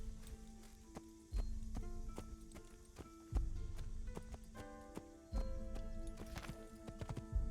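Horse hooves from the Assassin's Creed video game, a steady clip-clop trotting rhythm of hoof strikes with occasional heavier thuds, fairly quiet and heard alone.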